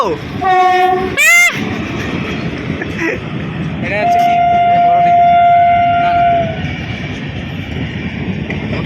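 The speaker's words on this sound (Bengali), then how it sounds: "এই মুহূর্তে আমাদের বন্দে ভারত চলে গেল" A Vande Bharat Express train horn sounds in short blasts, then a long steady horn blares as the train rushes past with loud rumbling; a voice speaks briefly.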